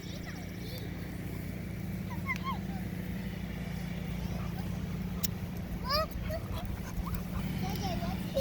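An American Bully dog whimpers and whines in short high yelps scattered over steady background noise, with someone talking quietly throughout.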